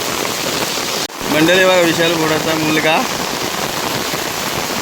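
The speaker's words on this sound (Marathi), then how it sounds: "तर मंडळी पाऊस खूप आहे गावी." Heavy monsoon rain falls on a Konkan village, a loud continuous hiss of downpour on surfaces close by, with someone talking over it partway through.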